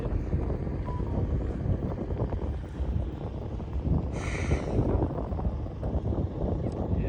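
Cold wind blows across the desert hills of Ras Al Khaimah, a steady low rumble buffeting the microphone throughout, with a brief faint higher whine partway through.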